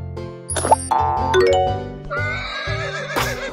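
A horse neighs in a long whinny, set among bright game chimes and a soft plop, all clear and up close.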